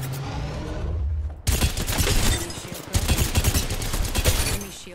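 Rapid bursts of automatic gunfire in the Apex Legends video game, loud and close, two sustained volleys separated by a short break.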